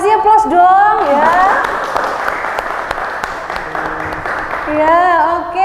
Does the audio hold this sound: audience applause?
yes